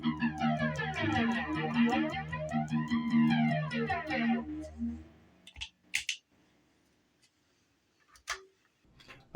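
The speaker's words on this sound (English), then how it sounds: "Flanger and distortion." An electric guitar runs through flanger and distortion pedals on a Vangoa PD-M powered pedalboard, giving sweeping swooshing tones over chords for several seconds before cutting to a few sharp clicks and near silence.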